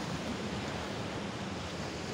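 Ocean waves wash onto a seashore at a river-mouth fishing spot, a faint, steady broadband hiss of surf with no distinct breaks and no voices.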